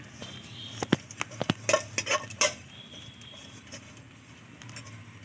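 Aluminium bowl clinks and clatters as it is handled while white oil is added for home-made toast biscuits, a quick run of close metallic knocks in the first half, then quieter room tone.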